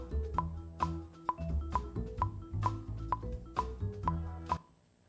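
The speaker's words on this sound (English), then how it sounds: "we'll put a little click track on it" Click track sonifying beats detected in music, sharp metronome-like clicks ticking at a steady pulse over quiet music, each click crisp and close.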